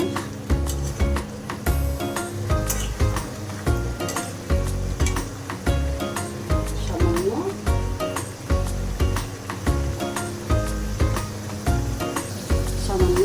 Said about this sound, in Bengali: ভাজা মাছগুলো দিয়ে ভালো করে নেড়ে চেড়ে